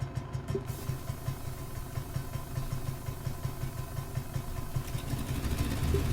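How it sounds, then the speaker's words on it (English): A steady, low mechanical engine rumble idles continuously with a faint pulsing throb, holding at a constant moderate level throughout, as the forward engine of an aircraft starts up in Microsoft Flight Simulator. "let's start the first engine"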